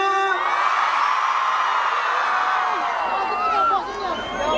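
A large live concert audience cheers, whoops and yells loudly and continuously, a dense crowd roar with high whistles and shouts rising over it, close and full throughout.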